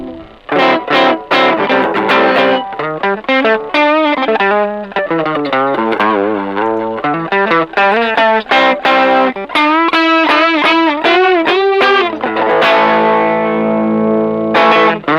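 Distorted electric guitar played through a Xotic AC Booster pedal runs loud, crunchy notes and chords with a gritty, boosted tone, no voices.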